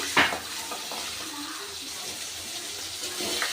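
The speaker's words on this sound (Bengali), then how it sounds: "এই দেশি চিংড়ি মাছটা একটু খুব একটা বেশি ভাজবো না" Local shrimp frying in a pan with cumin and bay leaf, a close, watery crackling sizzle with a sharp splash-like burst at the start and light stirring sounds after.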